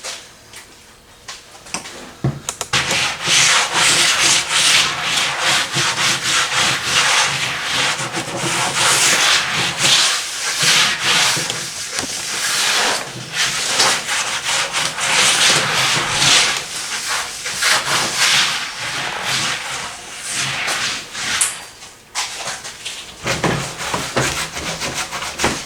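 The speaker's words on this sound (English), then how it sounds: "I'm just throwing some on there, and then I'm just going to smear it around. Just using my hand right now." A bare hand rubs Funkout cleaner over a surfboard, making a loud, continuous close-up swishing and scrubbing. The friction noise rises and falls with each pass of the hand, and no one speaks.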